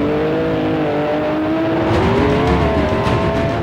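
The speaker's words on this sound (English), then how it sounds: "The Maserati 250F, a gorgeous car even now" A Maserati 250F racing car engine drones steadily at high revs and climbs slightly in pitch, loud and continuous throughout with no voices.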